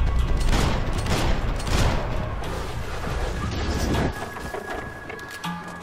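Sustained gunfire in the video game Max Payne 3, a dense close barrage of overlapping shots and booms that continues almost without a break before easing slightly near the end.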